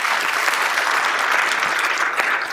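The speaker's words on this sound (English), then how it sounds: "go ahead and give them a round of applause" A crowd at a sheriff's office swearing-in ceremony breaks into steady, dense applause that fills the whole moment with no pauses.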